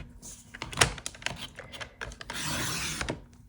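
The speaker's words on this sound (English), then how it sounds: "So I'm going to cut off 1 inch from one side," Cardstock being cut down for a scrapbook layout, heard as close, quiet scraping and rasping strokes with a few soft knocks, with no one speaking.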